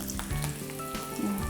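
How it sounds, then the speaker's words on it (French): Frozen shrimp tempura frying in hot oil, a soft, steady sizzle with faint crackle heard up close, with low tonal hum and clinks underneath. "Faire frire comme il faut."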